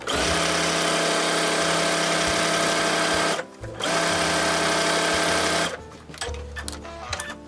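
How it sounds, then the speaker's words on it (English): Baby Lock sewing machine with a quarter-inch foot stitching a seam at the center needle position, a loud continuous rapid whir that stops briefly, runs again, then gives way to quieter handling noises. "on my baby lock, with my 1/4-inch foot in my center needle position, I get a perfect 1/4 of an inch seam."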